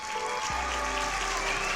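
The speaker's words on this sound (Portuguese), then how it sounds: "Agora, uma salva de palmas para o compositor." Dense applause from a crowd, a steady wash of many hands clapping throughout the short stretch.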